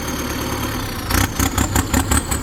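A Ford 7740 tractor engine runs on a test drive with a loud, steady mechanical drone. In the second half it pulses in rhythmic bursts as the revs rise and fall.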